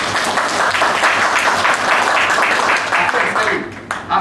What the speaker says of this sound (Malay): Bagi tepukan pada anda yang berkongsi.